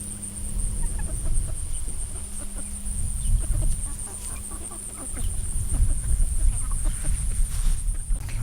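Chickens of a meat breed clucking while foraging on grass on a farm, a continuous chorus of overlapping clucks with a steady outdoor hum beneath.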